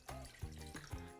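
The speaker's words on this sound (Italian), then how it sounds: "In un pentolino versiamo l'acqua" Water is poured into a small saucepan while making churros, heard as a few short, close splashing gulps in a quiet kitchen.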